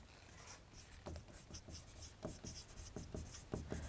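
Marker or chalk writing on a board in a Turkish grammar lesson, a quiet run of short scratchy strokes and taps in uneven rhythm, close and fairly soft.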